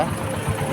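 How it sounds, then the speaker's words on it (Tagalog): A low, steady Yamaha Sniper 150 motorcycle idle with an Uma Racing exhaust, rumbling continuously at close range, with a rough, throbbing exhaust tone throughout. "ito papakinggan na natin yung tunog ng tambucho"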